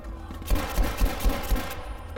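Steady rhythmic gunfire from a weapon in Battlefield V, a World War II setting in France, with evenly spaced heavy shots about every quarter second over a dense battlefield backdrop.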